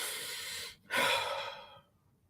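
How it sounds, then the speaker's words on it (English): A slow, deep mindful breathing exercise, close and clear: one long breath in or out, a brief pause, then a longer airy exhale that fades to quiet, with no talk. "It could be mindful breathing, where you just do a minute of"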